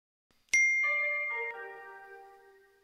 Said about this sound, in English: So the next thing I had is this bell,